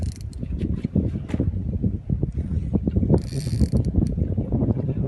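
Fishing reel being cranked in on a boat while fishing for horse mackerel and bluefish, a close rapid ratcheting and clicking run over low rumbling boat and water noise, with faint background bustle.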